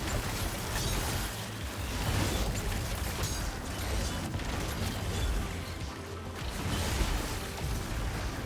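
Rockets explode in a wave-based onslaught shooter game, a continuous, loud barrage of booms, bursts and whooshes rumbling without pause through the whole stretch with no speech over it.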